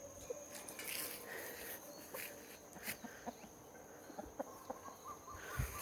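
Backyard chickens in a coop in Hawaii, clucking and calling in short scattered bursts over a steady insect-like hum, fairly faint and mid-distance, with no talking.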